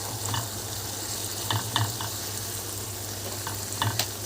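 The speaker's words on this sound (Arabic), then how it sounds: "نفضل نقلب فيها لغايه لما نحس ان الفلفل كمان داب معانا واتهرى شويه" Chili peppers fry in oil for a spicy chili-oil sauce as they are stirred, a dense, even sizzle with scattered crackles and soft scraping taps, no voices.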